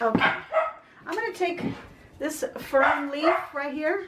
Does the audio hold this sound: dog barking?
yes